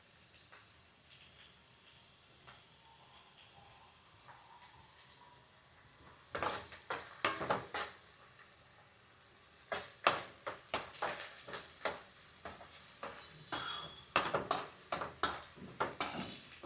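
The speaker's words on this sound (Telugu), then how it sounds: "పచ్చిమిరకాయలు, ఉల్లిపాయలు ఈ కలర్ వచ్చేటట్టు వేపుకోవాలి" Onions and green chillies frying in a pan for a fish curry: a quiet low sizzle, then bursts of repeated clattering stirs and scrapes of a spoon against the metal pan, coming in irregular clusters.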